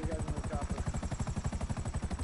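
A helicopter in a video game thuds with fast, even rotor beats, loud and close throughout with no break.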